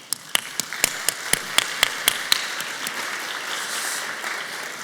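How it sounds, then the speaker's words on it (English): Audience applauding at an international education leadership awards ceremony, a dense, sustained round of clapping with several sharp individual claps standing out near the start. "a round of applause to you"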